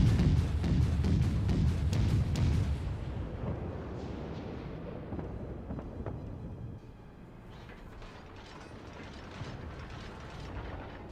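Guns of the cruiser USS Charleston (C-22) in World of Warships, a dense rumbling salvo followed by rattling mechanical clatter and gear noise that fades slowly, with a faint burst of firing again near the end.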